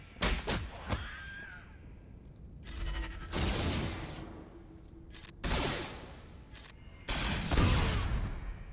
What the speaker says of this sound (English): Just shoot him.